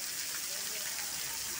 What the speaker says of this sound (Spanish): Miren los chorros de agua que caen.